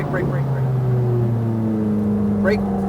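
Ferrari F430 F1 engine droning steadily at close range on a race track, a continuous low mechanical hum with slight pitch shifts, running beneath a voice giving driving instructions.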